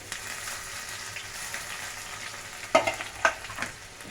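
Chopped onions, two of medium size, dropped into hot oil in a pan for pav bhaji give a steady low sizzle with a few sharper clattering bursts of stirring near the end, with no talking.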